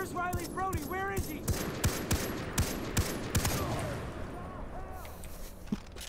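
Gunfire in the Far Cry 3 shooter, a steady run of sharp, evenly spaced shots lasting several seconds before tapering off, with a voice talking over it.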